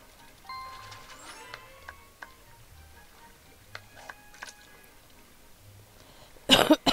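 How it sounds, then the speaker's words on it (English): A person coughs sharply twice near the end, loud and close, after a stretch of quiet tinkling video game music from a fishing tournament in My Time at Portia. "I'm gonna cough, guys. I'm just gonna go ahead and do it overall."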